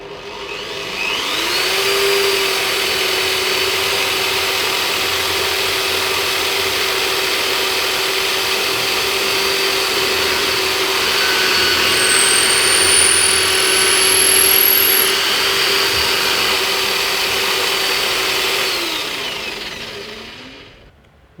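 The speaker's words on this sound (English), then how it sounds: "We're gonna need to drill a hole from here to here." A power drill bores a hole into the body of a Les Paul Junior guitar, a steady loud whine starting at about two seconds and running continuously until it winds down near twenty seconds, with a brief higher squeal partway through.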